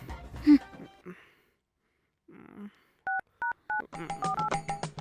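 A phone number is tapped out on a mobile phone, a quick run of evenly spaced keypad tones, with brief talk and rustling before them and further tones overlapping at the end.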